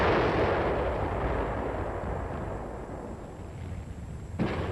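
Korean War artillery fire heard on an old newsreel: a low, rumbling blast that fades slowly under a hissy, worn soundtrack, with a sharper thump near the end.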